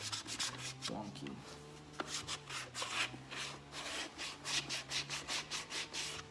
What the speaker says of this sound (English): sand as little as you can by hand